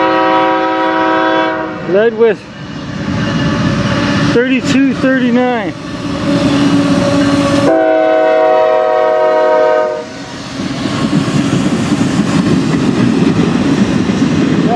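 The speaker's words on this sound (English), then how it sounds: "CSX train here in the dark." A loud horn blasts in long, repeated chords while a heavy CSX freight train rumbles and clatters past nearby at night in Fostoria, Ohio, with a brief spoken remark.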